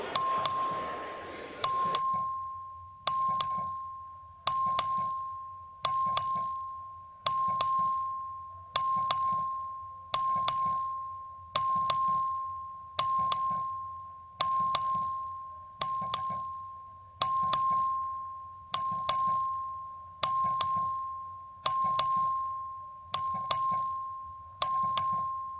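Bell rung by the clerk in a state legislative chamber during a House session: a long, steady series of loud, evenly spaced electric rings, about sixteen in a row, each with a bright metallic ding over a low buzz.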